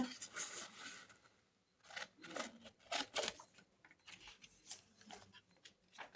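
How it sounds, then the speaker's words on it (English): Scissors snip through a vellum paper tag, following its outline in a series of short, close, crisp cuts and light scrapes with brief pauses between. "cut along the shape of the tag"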